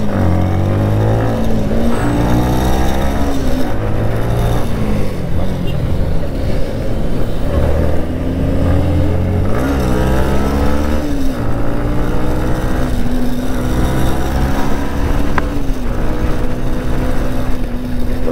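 A KTM Duke 250 motorcycle being ridden, its engine droning loud and steady from start to finish, with the pitch rising and falling repeatedly as it revs and shifts through the gears.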